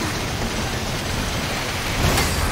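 Heavy rain in the Synduality Echo of Ada video game, a dense steady hiss of downpour filling the whole clip with a slight swell near the end, with no voices.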